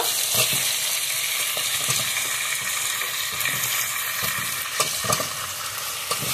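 Chicken and papaya sautéing in a pan, a steady close sizzle broken by repeated scraping and stirring clicks, no talk.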